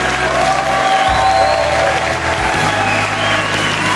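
Loud, sustained applause from a concert audience at the close of a 2017 show, with a dense, even patter of clapping and a low hum underneath.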